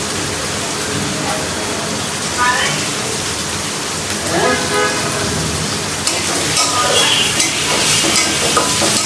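Bitter gourd (karela) frying in a pan, a loud, dense, steady sizzle filling the whole clip, with a voice speaking over it and faint stirring scrapes.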